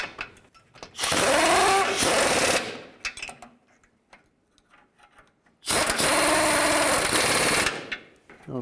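A power tool drives the transmission mount nuts on a GMC Yukon in two close bursts of whirring that rise in pitch as it spins up, with quiet handling noises between them.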